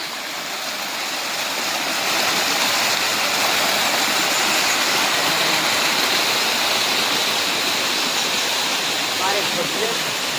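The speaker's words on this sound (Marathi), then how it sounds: "बघा हा धबधबा." A waterfall at Lonar crater lake in Maharashtra roars as a broad, steady rush of falling water, loud and close, building slightly in the first seconds and then holding a constant wash of noise.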